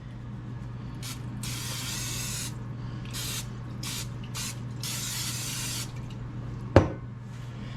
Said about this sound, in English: We're using our favorite item, spray.